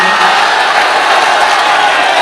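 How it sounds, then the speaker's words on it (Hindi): Crowd cheering and applause at a Hindi-Urdu mushaira poetry recital, 2021, a steady dense roar of clapping and shouting voices that fills the hall loudly from start to finish. "तालियां कमजोर है"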